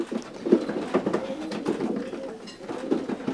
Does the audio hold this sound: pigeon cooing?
yes